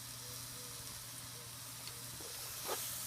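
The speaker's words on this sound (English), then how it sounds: "we're going to add tomato paste. Going to let that just kind of get nice and warm and cooked down" Tomato paste cooks down in a pot for ropa vieja, Cuban pot roast, giving a steady low sizzle and hiss with a faint stir or scrape near the end. No voices.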